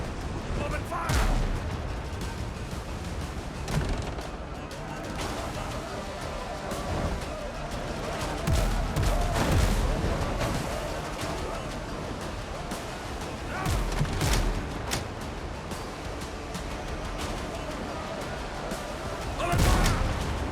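Ship cannons in the pirate game Windrose fire in repeated booming volleys across about twenty seconds, some blasts closer and heavier than others, over a busy layered battle soundscape with voices speaking now and then.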